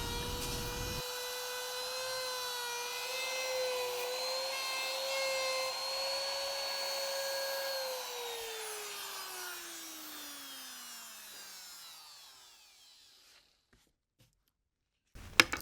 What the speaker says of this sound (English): ride the base plate of the router on the surface of this slab, and I'm just going to nibble away that waste left and right